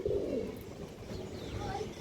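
A full-down-shaped pigeon gives a short, low cooing call close by, lasting only a moment against a faint background hum.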